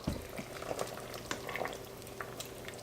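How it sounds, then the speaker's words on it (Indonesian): A pot of vegan young jackfruit curry bubbles and simmers, soft irregular pops and gurgles with a light sizzle, close and fairly quiet, no voices. "Masih mendidih banget."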